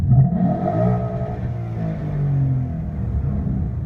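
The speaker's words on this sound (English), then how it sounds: "just to give it a bit of a rev here" A 2014 Mustang GT V8 engine with an aftermarket intake revs up with a deep rumble, then the pitch falls away as the throttle is released, close and loud.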